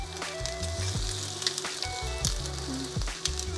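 Broccoli and Pad See Ew rice noodles sizzle in a hot pan, a steady frying hiss with soft clinks and scrapes as they are stirred, with no voices.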